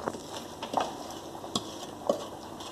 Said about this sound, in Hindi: अब हम इसमें चूरा की हुई प्याज ऐड करेंगे